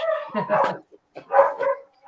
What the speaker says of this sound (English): The dogs are saying hi to everybody.